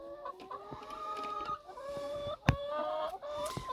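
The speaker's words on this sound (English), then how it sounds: "So these battery hens, they're not quite used to these feeders, so we have to keep helping them, don't we?" Battery hens cluck and squawk around an automatic feeder on a farm, many overlapping calls close by with one louder sharp burst midway. No one speaks.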